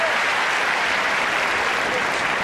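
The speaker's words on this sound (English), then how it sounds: "Cheers from the crowd here." A tennis crowd at a semi-final in Rome fills the air with loud, dense applause and cheering for Agassi. It is a steady roar of clapping from many hands that holds at the same level throughout.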